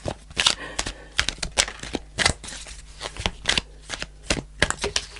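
Fairy oracle cards are shuffled close up in a quick, repeated run of loud riffling bursts and snapping flicks, with short pauses between handfuls.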